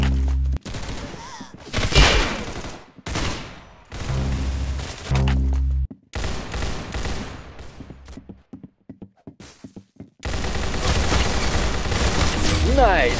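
Gunfire from the Roblox shooter Arsenal: loud bursts of shots and booms come in clusters separated by brief gaps, with a sustained dense stretch of rapid firing near the end, while players talk over the action.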